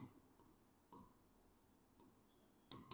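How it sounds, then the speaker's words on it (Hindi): Chalk or marker scratching on a board during an accountancy lesson on goodwill valuation, several short faint strokes separated by pauses, quiet and close, ending with a couple of sharper taps. "यहां पर लिखते हैं"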